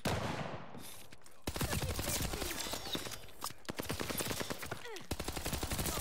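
Rapid automatic gunfire in the Call of Duty Vanguard shooter game, loud, close bursts of sharp shots separated by short pauses, with a voice faintly present underneath.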